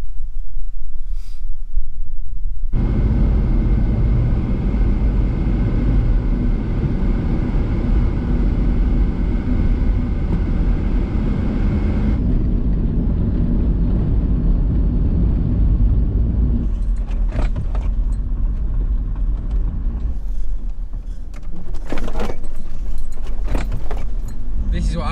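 A VW camper van rolls along country roads through farmland, its engine and road noise a steady loud drone from inside the cabin, shifting tone partway, then rattles and knocks near the end.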